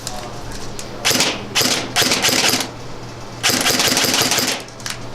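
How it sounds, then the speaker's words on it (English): An airsoft MP5 AEG fitted with a suppressor fires several short muffled bursts, each a rapid thudding rattle with brief gaps between them, close and fairly loud. "So the good thing is that it removes that kind of pop that you'll normally hear with the AEG."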